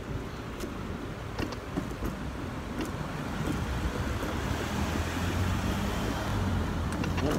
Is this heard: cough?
no